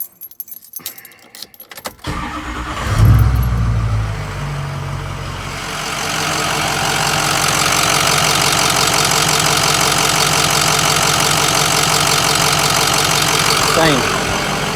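Keys jangle, then a 6.0 Powerstroke diesel swapped into a 1986 Ford bullnose truck cranks and starts with a surge and settles into a steady, clattering idle, heard close with the hood up.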